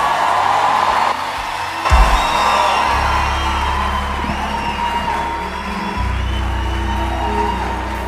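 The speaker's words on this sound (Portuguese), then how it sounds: "eu quero que você receba com uma salva de palmas" A church congregation cheers, whoops and applauds as guest preacher Pastor Camila Barros is welcomed to the stage, with loud crowd noise sustained throughout and low booming music or organ tones underneath.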